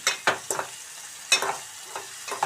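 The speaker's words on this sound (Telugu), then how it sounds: "మనం చక్కగా వీటిని ఎర్రగా వేయించుకుందాము చక్కగా వేయించుకోవాలండి ఎండు రొయ్యలు" Dried prawns fry in a pan for a bottle gourd curry, with short, bright scraping stirs in quick bursts over a light, close sizzle.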